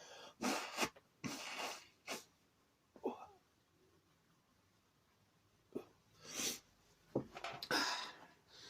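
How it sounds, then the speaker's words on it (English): Several bursts of nasal blowing and snorting come close to the microphone in irregular clusters, separated by quiet breathing. "I have to blow my nose"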